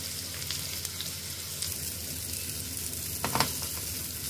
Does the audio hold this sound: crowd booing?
no